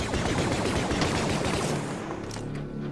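Dense, loud blaster gunfire from a fan-made Star Wars zombie horror game: continuous rapid shots fired at a target, tapering off slightly toward the end.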